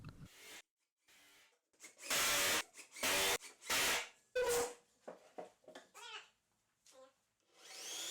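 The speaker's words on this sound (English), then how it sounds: "With a Forstner bit, drill a hole in the side of the station" A power drill with a Forstner bit whirs in several short bursts, spinning up and boring a hole into wood, with pauses and small handling noises between runs.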